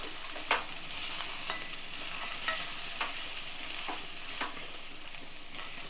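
A spoon stirs mutton curry masala with cashews in a pan, making rhythmic scraping knocks about once a second over a soft, constant sizzle, close and without talking.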